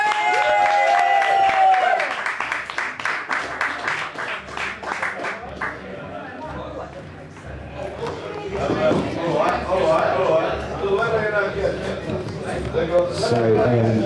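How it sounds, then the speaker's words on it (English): Applause from an event crowd for the musicians, with clapping and crowd noise running the full length, louder at the start and swelling again later, mixed with a voice or music through parts of it. "Ladies and gentlemen, one more round of applause,"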